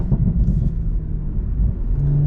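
A deep, throaty Porsche GT4 exhaust with a back box modification rumbles steadily up close, a low burbling drone with no other sounds.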